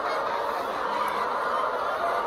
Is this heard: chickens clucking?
yes